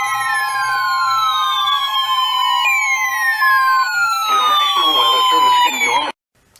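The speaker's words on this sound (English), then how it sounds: "here we go with the siren" A loud, continuous electronic siren tone from a Midland ER50 radio, sweeping and wailing, with layered tones gliding downward, then cutting off abruptly near the end.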